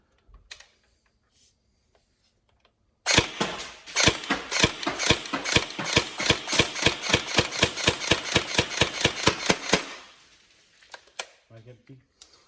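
A Tokyo Marui SGR12 AES airsoft shotgun fires a rapid, even run of about two dozen sharp mechanical cracks for several seconds, close and loud, followed by a few faint clicks.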